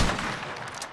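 A single hunting rifle shot in a video game coyote hunt, a sharp loud crack at the very start that fades into a brief rumbling tail, with no talk over it.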